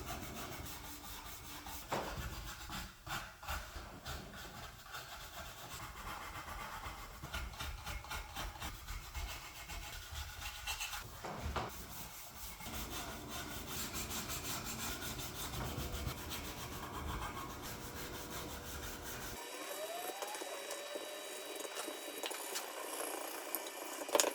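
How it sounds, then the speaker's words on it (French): A brush is worked over a relic'd guitar finish in a string of scratchy rubbing strokes, close and fairly steady, with the texture changing near the end. "Alors, c'est juste un passage avec une brosse."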